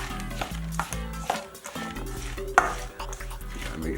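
Food coloring is stirred into a pot of homemade Jamaican cereal, with close, rhythmic scraping and knocking of the spoon over a low steady hum.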